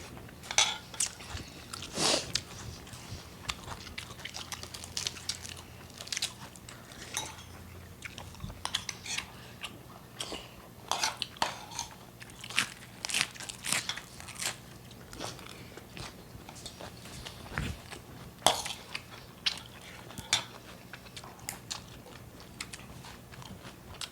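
Someone eating spicy bamboo shoot soup with beef and fresh vegetables: close, crunchy bites and wet chewing repeat steadily, with no talking.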